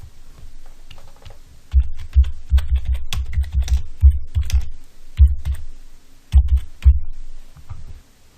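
Typing on a computer keyboard, with bursts of quick key clicks separated by brief pauses, close and moderately loud, no voices.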